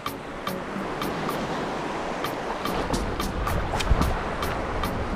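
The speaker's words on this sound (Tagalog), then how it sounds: "Laki lang ng alon." Steady roar of large ocean waves washing nearby on the coast at Mauban, Quezon, a continuous broadband rush with faint regular ticking on top, no voices.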